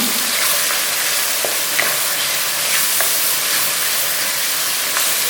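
Garlic and ginger paste with salt fries in a pan for keema biryani, giving a loud, constant close-up sizzle broken by a few light clicks of a spoon stirring through it.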